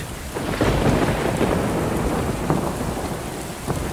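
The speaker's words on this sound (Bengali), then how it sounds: "বাইরে শুধু বৃষ্টির শব্দ আর মাঝে মাঝে বাজ পড়ার আওয়াজ" Steady heavy rain pours outside while low thunder rumbles roll in now and then, filling the whole stretch with dense, continuous noise and no voices.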